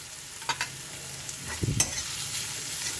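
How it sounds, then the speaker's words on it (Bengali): Onions frying in a pan with cumin, ginger and chili sizzle steadily while a utensil stirs them, giving a few brief scraping strokes over the constant close hiss. "পেঁয়াজগুলো দিয়ে দিয়েছি, হালকা অল্প একটু জিরে ফোড়ন দিয়েছি"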